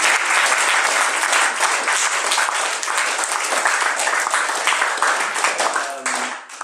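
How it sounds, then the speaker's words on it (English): Audience applause for the candidates at a student college presidential hustings, a dense, steady clapping that fills the room for several seconds before tapering off at the end. "everyone give them a round of applause to our candidates"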